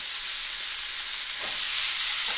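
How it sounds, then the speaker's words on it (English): Cherry tomatoes sizzle steadily in a hot pan, a dense continuous hiss with a couple of soft scraping sounds from a spoon stirring them near the end. "So now I'm gonna add in my cherry tomatoes and just stir these around"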